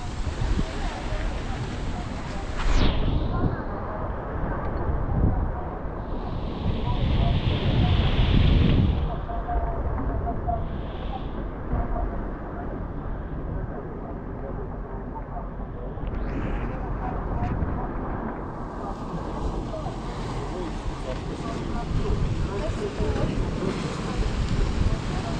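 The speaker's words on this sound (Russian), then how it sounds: "Внизу волны бушуют." Waves surging on rocks below a coastal cliff trail at Novy Svet in Crimea, with gusty wind buffeting the microphone; a continuous roaring wash that swells and eases, loudest early on, with brief voice-like sounds at times.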